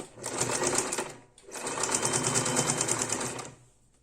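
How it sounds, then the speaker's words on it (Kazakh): Sewing machine stitching a patchwork quilt, running steadily for about a second, pausing briefly, then stitching again for two more seconds before stopping; close and clear with no talk. "Осылай осынан тігіп шығамыз."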